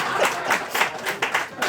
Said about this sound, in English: Clap again.